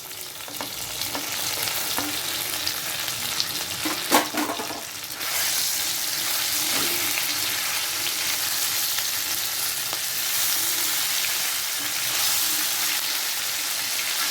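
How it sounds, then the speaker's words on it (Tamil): Spiced prawns frying in an eggplant gravy, giving a loud, continuous close-up sizzle with a brief burst of stirring and clatter around the middle, then steady bubbling hiss to the end. "இப்போ நம்ம மசாலா போட்டு வச்சுருக்கிற அந்த இறாவை இதில் சேர்த்துறோம்"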